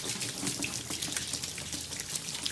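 A PB 5000 water pump set up above the water runs steadily, with a continuous rush of flowing water filling the scene at moderate loudness and no break across the clip.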